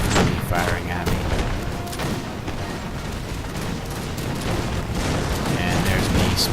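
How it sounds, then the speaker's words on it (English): Artillery and musket fire from a Napoleonic-era battle in the strategy game Napoleon: Total War, a continuous dense roar of overlapping booms and volleys that keeps a steady loud level throughout. "This other Landwehr unit in the middle is catching some artillery fire here"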